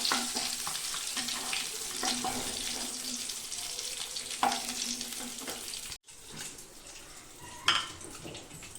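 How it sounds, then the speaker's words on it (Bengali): Eggs fry in hot oil in a pan, giving a soft, steady sizzle with occasional stirring scrapes and clinks, faint and close, with no talking. "ডিমটা আমার ভাজা হয়ে গেছে, নামিয়ে নেব"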